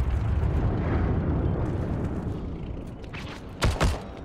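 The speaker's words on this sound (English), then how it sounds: "Ooh, that's a bomb." A bomb explodes in the World War II shooter Heroes and Generals, heard as a deep, sustained rumbling roar with a couple of sharper bursts near the end, loud and with no voices.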